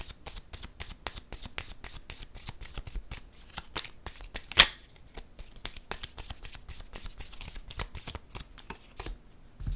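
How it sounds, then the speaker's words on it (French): Tarot cards shuffled by hand in a quick, steady run of crisp riffling flicks, close and fairly loud, with one sharper slap partway through as a card is drawn; no talking. "Je vais piger une autre carte."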